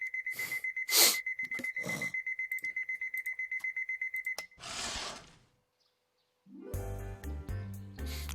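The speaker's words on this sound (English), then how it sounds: "I stopped my alarm, get out of bed," In a video game, an alarm clock rings with a rapid, steady electronic beeping that goes on for several seconds before it cuts off, followed by a rustling burst and then light game music.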